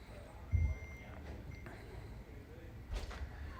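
An AX Pro alarm control panel beeps as it is armed with its leave house button, with faint electronic tones over a quiet room and a few soft clicks and knocks.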